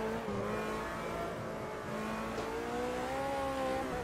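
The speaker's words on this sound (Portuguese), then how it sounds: "Eu gostei também do som do motor desse carro." Race car engine in the Automobilista 2 racing game, a continuous revving whine with pitch climbing and shifting through gears, steady and fairly faint, heard alone.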